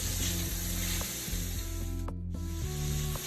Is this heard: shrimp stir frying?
yes